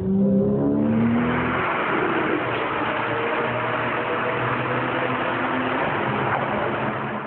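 A new Porsche 911 engine revs hard, a loud roaring surge that holds as a sustained high-pitched growl, close and continuous with no talking.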